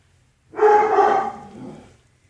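A dog lets out a single close bark that drags into a short whining tail, then falls quiet indoors.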